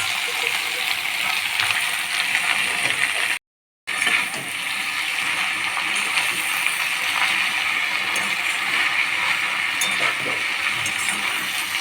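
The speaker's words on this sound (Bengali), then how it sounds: "সর্ষের তেলের মধ্যে শাকগুলো দিয়ে অল্প নেড়ে নেব।" Red amaranth greens stirred and frying in mustard oil in a wok, a constant loud hiss and sizzle with a brief cut to silence near the start, then continuing evenly without talk.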